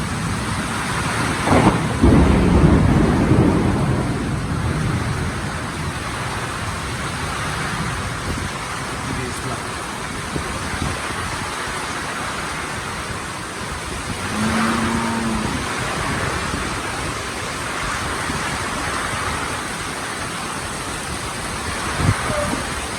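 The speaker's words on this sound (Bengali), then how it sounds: "প্রচন্ড বৃষ্টি হইতেছে" Steady, heavy monsoon rain hisses throughout, heard from inside a large farm shed, with a low rumble of thunder early on and occasional louder gusts; no voices.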